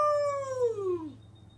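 A voice imitates a dingo howl, one long, clear descending wail that slides downward and fades out after about a second.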